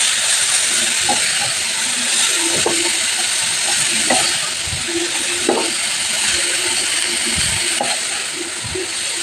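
Grated cabbage frying in a pan and being stirred, a constant loud hiss of steam and sizzling with intermittent scraping and clinking of the spoon, close by throughout.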